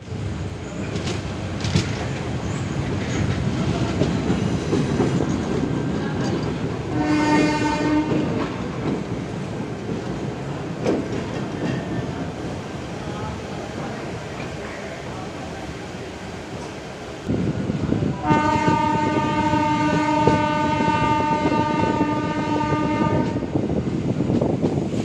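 A MEMU passenger train runs between Puducherry and Chennai with a steady rumble and rattle of the carriages, and its horn sounds loudly twice, once briefly and then in a longer blast near the end.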